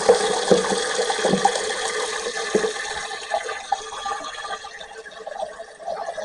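A toilet cistern refills with water after its fill valve and overflow level are adjusted, giving a loud, close rushing and hissing flow that slowly eases and thins over several seconds, with no talking.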